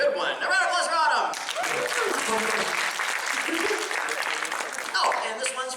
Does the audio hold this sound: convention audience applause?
yes